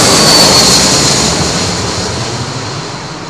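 A jet airliner arriving at London Heathrow on runway 27L, a loud, broad engine roar close by that slowly fades as the aircraft passes.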